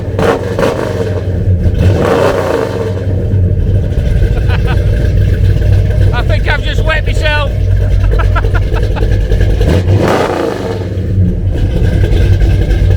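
A custom-built engine in a shop that also works on Harleys runs and revs loudly and steadily throughout, with a person speaking briefly over the engine.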